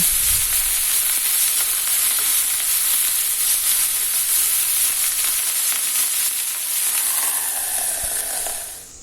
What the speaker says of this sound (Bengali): আগে থেকে কেটে ধুয়ে রাখা সিমের টুকরোগুলিকে দিয়ে দিলাম এবার হালকা নেড়ে চেড়ে ঢাকা দিয়ে দেব